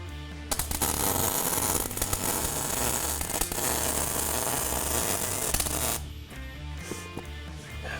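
A steel billet is arc welded, a steady dense crackling sizzle with faint hum that runs continuously, close up, then cuts off abruptly near the end, leaving quieter background.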